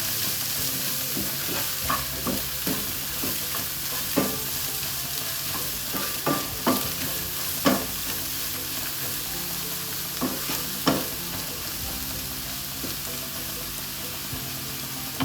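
Cabbage masala with chilli powder sizzles steadily in a pan while a spoon stirs it, scraping in irregular clacks over a constant frying hiss, close and moderately loud.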